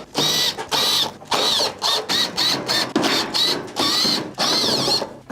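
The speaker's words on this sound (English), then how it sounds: "remove the top panel by taking out all of the Phillips screws around the perimeter" A power screwdriver whirs in short bursts as it backs Phillips screws out of the top panel of a Whirlpool stove. The close, stop-start mechanical buzzing repeats about a dozen times with brief pauses between.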